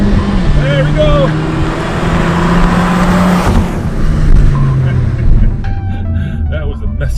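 A Mini Cooper accelerates hard around a race track in second gear. The engine note is loud and close, rising steadily in pitch, with shifting road and wind roar underneath.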